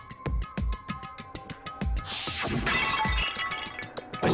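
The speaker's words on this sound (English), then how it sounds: "I grabbed the Monokuma bottle from the shelf and smashed it across her head." A Monokuma glass bottle smashes over someone's head in the Danganronpa game, a sharp shattering crash with tinkling shards after a run of rhythmic thuds.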